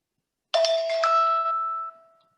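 A gentle timer chime marks the end of a four-minute presentation slot, a single bell-like ding-dong with clear ringing tones that sustains and fades out over about two seconds, alone in otherwise silent surroundings.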